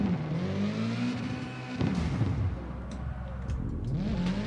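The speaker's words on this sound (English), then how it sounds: "Let's just see how far we can go in smashing this car up." A car in CarX Drift Racing 2 revving and grinding through a smash-up, with a loud, continuous engine drone, bumps and a few sharp impact knocks.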